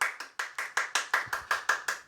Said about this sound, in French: Toute l'équipe, applaudissez-la bien fort.